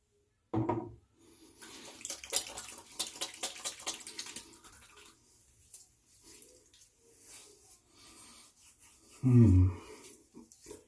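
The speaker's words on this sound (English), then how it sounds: "Give a good splash of this." Aftershave is splashed by hand onto freshly shaved skin: a sharp wet slap at the start, softer scattered patting and rubbing in between, then another loud wet splash near the end, close and with no voices.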